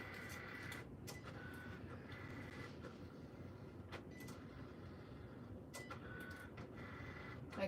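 A Cricut cutting machine runs with a steady mechanical whir and rhythmic carriage movements, with short higher-pitched buzzes recurring through the cycle, close up and with no talking.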